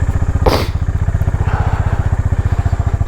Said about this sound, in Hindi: सो बाइक स्टार्ट कर लेते हैं।